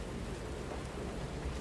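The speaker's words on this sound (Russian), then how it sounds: "Площадь центрального вокзала Крата. Дождливая ночь." Steady rainfall on a rainy night at Krat Central Station square in the video game Lies of P, a dense, even hiss of rain with a low rumbling undertone, continuous and fairly quiet.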